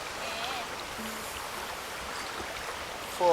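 Steady broadband rush of the White River flowing in Jamaica, close and continuous, with no voices over it.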